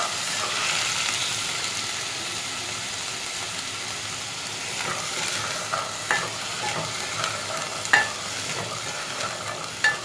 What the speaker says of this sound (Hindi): दो मिनट तक मैं इसे सही से फ्राई करूँगी।